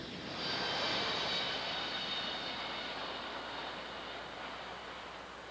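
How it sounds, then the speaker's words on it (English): A Federal Express DC-10 cargo jet climbs out at a 1992 airshow, its broad engine roar swelling early and then holding as a steady, slowly fading rumble with a high whine on top. "At Show Center, they execute a maximum performance climb out, again demonstrating the extra margin of safety and power of these Federal Express aircraft."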